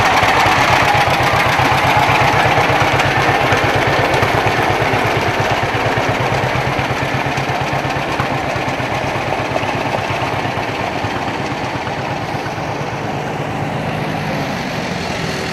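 An old Allis-Chalmers Model B tractor engine chugs steadily with a rapid, regular putter, close and fairly loud, fading slightly toward the end.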